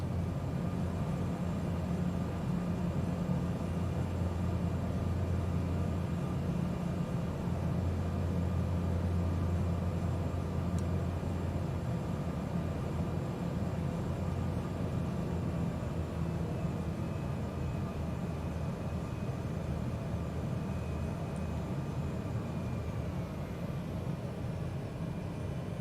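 A small aircraft on a landing approach in Microsoft Flight Simulator during an Iceland bush trip, a loud, steady engine and wind drone lasting throughout with no noticeable change and no talking.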